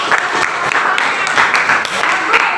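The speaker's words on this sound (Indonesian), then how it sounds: "beri tepuk tangan untuk kelompok 3" A classroom of students applauds a student group, a brisk burst of clapping from many hands at close range with a few voices mixed in.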